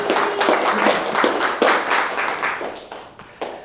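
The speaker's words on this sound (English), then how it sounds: "Applause for Jake" Scattered clapping breaks out for Jake at a business meeting, a small group applauding irregularly with sharp taps, close and moderately loud.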